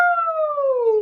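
Single voice imitating a siren in a vocal warm-up for a fifth-grade class, sung on an "ooh" as one smooth, clear tone sliding steadily downward, loud and close, alone for about a second.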